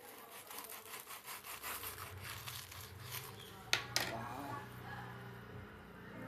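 A knife cuts through a crispy fried potato box snack, giving quiet rasping, crunchy strokes that end in two sharper cracks close by.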